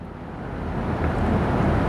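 Storm wind and rain in a spoken story, a steady broadband roar that swells slightly over two seconds, with no voice over it.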